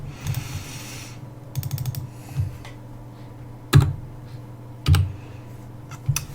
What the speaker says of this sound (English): I'm going to type this in for now.